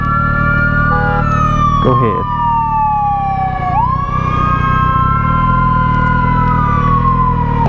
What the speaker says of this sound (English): Ambulances scare the hell out of me.